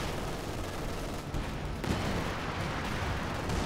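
Sustained machine gun fire from an MG team in a Company of Heroes 2 battle, dense and continuous with distant booming mixed in, loud and unbroken throughout.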